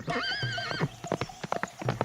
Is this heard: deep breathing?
no